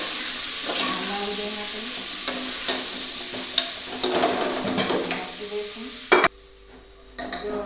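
Carrots and beans cooking in a pan with garlic and chilli over low heat give a steady frying sizzle with intermittent stirring scrapes, ending in a sudden drop to near quiet.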